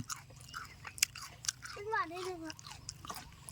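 Close crunching bites and chewing on freshly picked dates at a date palm orchard, soft irregular mouth sounds mixed with nearby voices chatting and a brief rising vocal exclamation.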